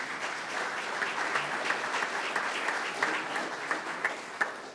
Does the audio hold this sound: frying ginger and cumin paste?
no